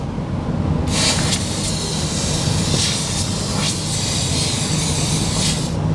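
Short wand spraying Mopar rust proofing continuously up inside a vehicle wheel well behind a pulled-back liner: a steady, loud hiss that starts abruptly and runs without a break, swelling a few times as the spray shifts.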